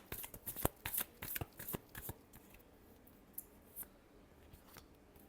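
Playing cards being shuffled in a dense run of crisp riffles and flicks, close and quiet, with busier bursts early and a few sparse flicks toward the end.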